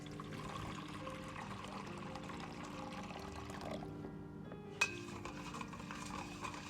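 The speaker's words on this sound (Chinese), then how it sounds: "接着准备一个盆，放入10克的盐，然后倒入温开水" Warm boiled water is poured from a height into a bowl of salt, a steady low trickle running throughout, with one brief clink of a vessel near the end.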